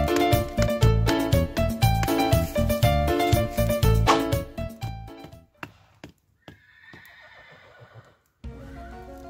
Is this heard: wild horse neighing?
yes